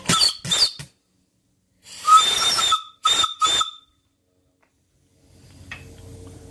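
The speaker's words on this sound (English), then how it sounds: "Really nice little whistle." Several short, shrill blasts of a small steam boiler whistle on a quarter-inch pipe with hissing steam, two quick toots, a longer blow, then two more, followed by a quiet hiss.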